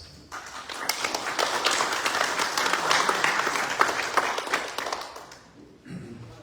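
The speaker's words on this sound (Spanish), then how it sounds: "un fuerte aplauso." Applause from the audience at a forum on pensions for retired teachers rises quickly, holds steady, then fades out near the end, heard from a moderate distance.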